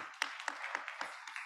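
Congregation in a Pontiac church clapping in a quick, steady rhythm, five or six distinct hand claps sounding fairly faint and a little distant, with no cheering voices evident.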